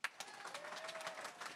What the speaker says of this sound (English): Can everybody clap their hands?